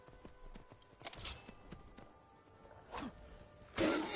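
Horse hooves clopping while riding in Skyrim, soft irregular thuds spaced out over a few seconds with a couple of louder swishing impacts, fairly quiet and with no talk.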